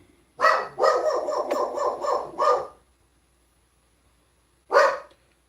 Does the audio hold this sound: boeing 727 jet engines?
no